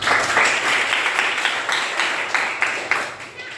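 A small class of students claps for a classmate who answered correctly in a school lesson, a brief burst of uneven, separate hand claps at moderate loudness that tapers off.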